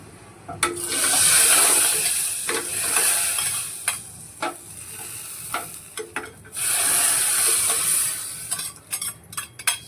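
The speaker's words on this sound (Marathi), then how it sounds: "छान अशी मस्त लोखंडाच्या भांड्यात आता फोडणी देऊन घेतली आहे" Garlic tempering crackles and sizzles in an iron pot for Sindhi-style sai bhaji, loud hissing bursts that rise and fade between scraping stirs and clinks of the spoon against the metal.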